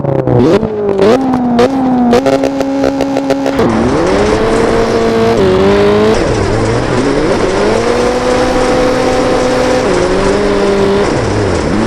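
A rally car in the game Richard Burns Rally revs hard toward a hairpin. The loud engine drones and shifts pitch as tires scrabble and skid through a handbrake turn, then it pulls away with rising revs.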